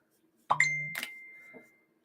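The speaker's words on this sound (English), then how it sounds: "Your phone, when it's not on mute or silent or whatever, just sounds like a coin dropping in Mario." A phone notification chimes once, resembling a Mario coin: a bright two-note ping with a ringing tail, heard close and alone in a quiet room.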